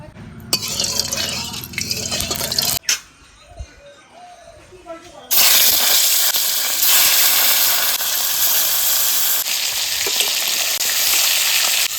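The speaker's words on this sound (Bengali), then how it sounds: "মাছটা ভেজে নেবো" Boal fish drops into hot oil in a wok with a loud, close hiss, and steady frying sizzle then carries on for several seconds. Someone talks over the cooking before the fish goes into the pan.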